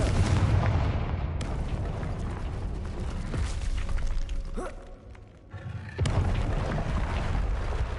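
Blasting spell explosions from Confringo in the Hogwarts Legacy video game, a dense run of loud booms and crackling bursts with a brief lull near the end before another blast erupts.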